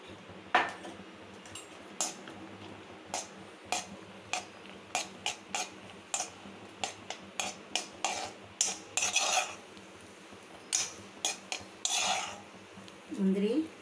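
Cashews stirred in ghee in a metal pan, a spoon clinking and scraping against the pan in an irregular series of sharp knocks, close and fairly loud with no talking.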